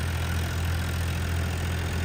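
A Farmtrac 47 tractor drives an 8-foot rotavator, its engine a steady, close, loud low drone that runs without a break and without voices.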